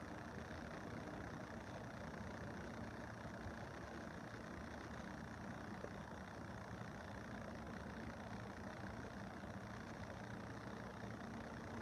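A car engine runs continuously in a steady, faint, even rumble for the whole stretch, with no speech over it.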